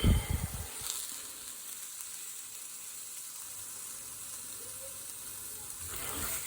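Gnocchi and sausages fry in a superheated wok, giving a steady, moderately quiet sizzle that runs for several seconds after a brief clatter at the start.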